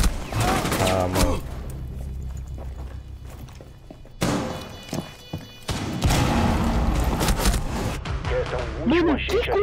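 Bursts of gunfire in the tactical shooter Rainbow Six Siege crack out in several sharp volleys across the round, loud and close, with a player talking excitedly over and between the shots.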